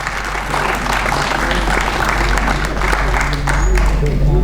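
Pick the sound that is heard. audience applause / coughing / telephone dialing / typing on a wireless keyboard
audience applause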